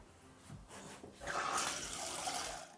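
Water saved from a warm-up shower pours and splashes at a household sink in a green home, a soft steady rush that swells partway through, with no talking.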